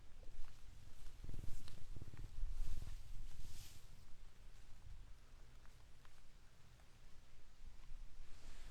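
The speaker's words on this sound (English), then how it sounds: "I heard a little purring from you, Miss Beauty." Soft, low purring from a rescued cat at a wildcat sanctuary, up close, quiet and steady with faint rustling around it.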